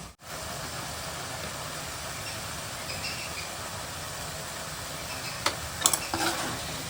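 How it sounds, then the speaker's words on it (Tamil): A spoon stirs sautéed tomato, onion, ginger and garlic with spice powder in a pan, making a steady sizzle. A few louder scrapes come near the end. "தக்காளி வெங்காயம் இஞ்சி பூண்டுலாம் நல்லா வதங்கிச்சு கூட வந்து நான் தூள் போட்டுக்கிறேன்"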